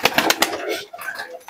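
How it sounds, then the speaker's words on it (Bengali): A Lotan pigeon with feathered feet and a crested head gives a brief, soft coo close up, with a voice speaking over it. "একজন লোটন কবুতর তোমাদেরকে দেখাচ্ছি"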